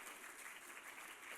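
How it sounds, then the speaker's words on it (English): Audience applause at a community information evening on solar power and home batteries, a dense steady wash of clapping from a room of people, fairly loud and continuous with no voices over it. "Thanks for that, didn't expect a clap."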